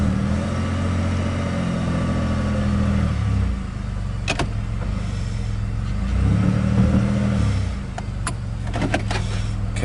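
A 2008 Chevy Impala engine revs up in two long pushes, a loud close surge that rises, holds and falls back to idle between, with a few brief clicks in the pauses.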